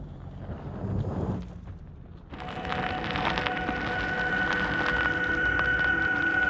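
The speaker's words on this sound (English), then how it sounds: "So that sound you hear are the electric motors working" Electric motors of a 2020 Toyota Highlander Hybrid whir while it crawls off road, a steady high-pitched electric hum rising out of low rumble and wind noise, sustained and fairly close, with no talking.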